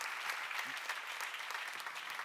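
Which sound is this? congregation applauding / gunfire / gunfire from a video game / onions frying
congregation applauding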